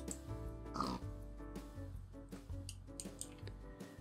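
Minecraft pig oinks and snorts, sounding over a steady bed of background music, fairly soft and repeated several times.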